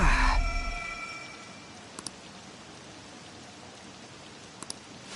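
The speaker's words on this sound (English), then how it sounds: "This rain ain't too bad." Steady rain in Persona 5 Royal on PS4 makes a soft, even hiss. Two pairs of brief clicks cut in, and a fuller burst of sound at the very start fades into the rain.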